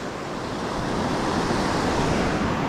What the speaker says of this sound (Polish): Morza szum ptaków śpiew.